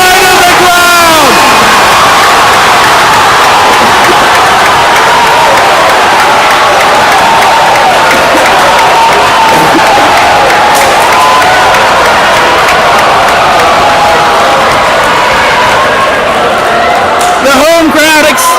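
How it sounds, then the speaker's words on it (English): A home crowd roars continuously at a high school basketball game between Lansdale Catholic and LaSalle College HS after a senior sinks a three-pointer, loud sustained cheering and whooping, with voices rising again near the end. "The home crowd ecstatic here for Anthony Wack, the senior, with the big three."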